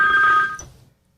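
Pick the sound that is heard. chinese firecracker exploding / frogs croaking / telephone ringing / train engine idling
telephone ringing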